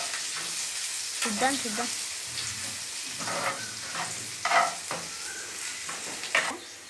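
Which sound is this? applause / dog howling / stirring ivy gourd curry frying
stirring ivy gourd curry frying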